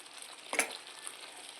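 Quiet, soft sizzle of egg masala gravy cooking in a pan, with one brief louder crackle or stir partway through.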